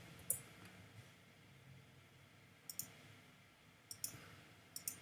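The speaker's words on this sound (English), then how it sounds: "make sure you're clicking on the center of those circles" Computer mouse clicking while working in Fusion 360 CAD software, sharp close clicks arriving as a single click and then quick pairs spaced a second or so apart over a quiet background.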